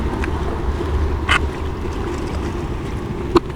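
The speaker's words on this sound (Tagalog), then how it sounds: "ang lakas ng hangin dito mga workers" Strong wind blows across a coastal road construction site in Davao, making constant low buffeting rumble against the microphone. A couple of brief sharp knocks and squawk-like sounds stand out over it.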